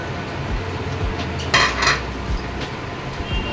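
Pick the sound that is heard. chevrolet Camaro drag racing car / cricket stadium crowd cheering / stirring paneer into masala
stirring paneer into masala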